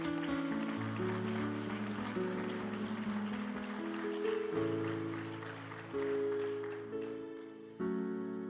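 A church congregation applauds in praise, a dense wash of clapping that runs steadily under loud sustained keyboard or organ chords for the whole stretch.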